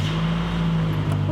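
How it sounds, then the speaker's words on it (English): A car fitted with an SR20DET engine idles steadily up close, a low, even rumble held at constant level with no revs or breaks throughout. "Running car."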